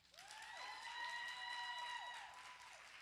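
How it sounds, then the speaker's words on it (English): A crowd claps steadily at a hip-hop talk event before a conversation with Talib Kweli, with a few high whistle-like tones riding over the fairly quiet, dense applause. "Can you clap your hands again?"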